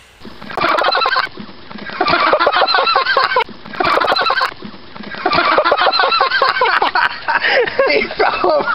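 Goose honking loudly and repeatedly in rapid bursts, close by, with people talking over it, during a man's scuffle with the bird.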